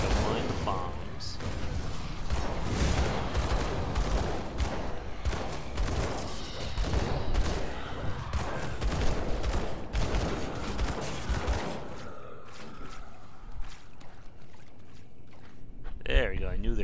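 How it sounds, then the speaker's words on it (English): Bombs explode in Grim Dawn as a long run of dense, repeated booming blasts and crackling fire, loud and continuous under ongoing talk before easing into quieter ambience near the end. "Don't mind the bombs."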